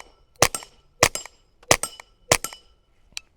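Suppressed .22 rimfire rifle shots through an older suppressor: four sharp, fairly loud cracks about a second apart, each followed by a short clank or echo, then a fainter click at the end.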